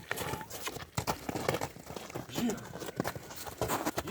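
Large horses' hooves clop in an uneven walking rhythm on a hard road, fairly close, with people talking intermittently over them.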